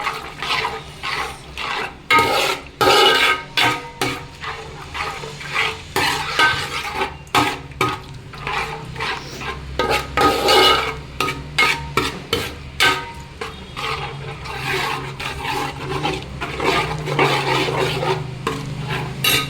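A spoon scrapes and stirs steadily around a pot, mixing ground curry paste for Kerala-style mackerel curry, producing rhythmic wet swishes and clinks that continue throughout.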